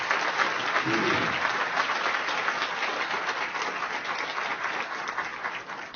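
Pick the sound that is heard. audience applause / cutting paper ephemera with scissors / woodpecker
audience applause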